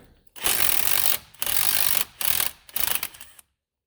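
Impact wrench bursts loosening a wheel bolt on a 2010 Nissan Rogue AWD during outer tie rod replacement: four loud, close rattling bursts of varying length with short gaps, no talking.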